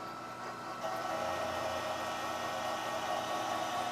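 A metal lathe running in back gear at about 200 RPM, cutting half-inch material, gives a steady, loud broadband whir and hiss that rises slightly in level after the first second and holds constant.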